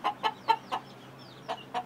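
Fighting rooster, a medium-sized gamefowl, giving a series of short, sharp clucks in a loose rhythm, close by and fairly quiet, with brief pauses between calls.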